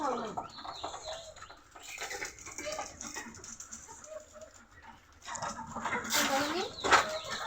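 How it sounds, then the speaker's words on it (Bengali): Chickens cluck and a rooster calls amid a busy market in Jamalpur, Bangladesh, mixed with people talking, the calls louder toward the end. "মোরগ, এই মোরগটা নিয়ে যায়।"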